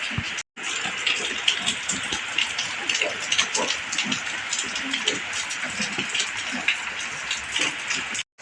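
Heavy rain pours down in a steady, dense hiss with patters on surfaces throughout, and some faint voice-like sounds are mixed in.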